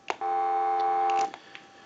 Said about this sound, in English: We'll give you dial tone once again.